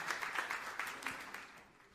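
An audience at a church sermon applauds, a soft, distant wash of many clapping hands that fades gradually over under two seconds.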